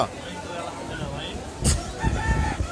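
Chickens and a rooster at a busy pigeon market where quails and other birds are also sold, clucking and crowing amid constant crowd noise and background chatter.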